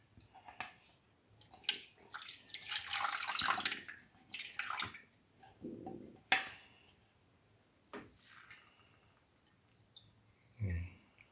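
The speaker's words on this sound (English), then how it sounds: "using the sieve, filter and sieve in the cornstarch beetroot juice mixture" A cornstarch and beetroot juice mixture is strained through a sieve into a pan for a sweet beetroot corn pudding, making soft pouring and splashing liquid sounds with scattered clicks, fairly faint and close.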